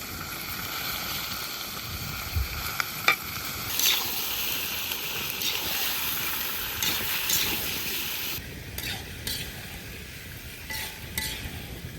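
Steady broadband sizzling of meat frying in a cauldron for bograch goulash, a continuous hiss with occasional clinks of metal, no voices.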